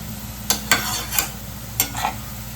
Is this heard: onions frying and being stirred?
yes